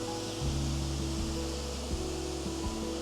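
Steady roar of the Calder mill waterfall at Lochwinnoch, a constant broadband rush of falling water heard from close by with no voices, overlaid by low humming tones.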